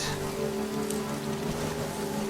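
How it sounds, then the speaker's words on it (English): Steady rain falls in the video game Death Stranding, a dense, even patter of drops on surfaces that holds at a constant level throughout with no talk over it. "Oh, and then we got rain as well."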